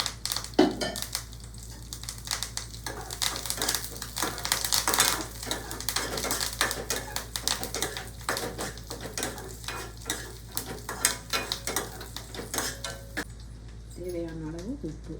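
Ingredients sautéing in hot oil while a tempering for homemade mor kuzhambu is cooked, giving a steady close sizzle with scattered clicks and stirring scrapes throughout and occasional brief talk.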